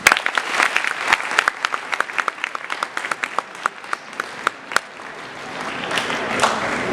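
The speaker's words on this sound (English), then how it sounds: "can we have 1 big clap for all of you?" An audience at a high school conference applauds together, dense clapping starting loud and full and then thinning and fading toward the end, no voices over it.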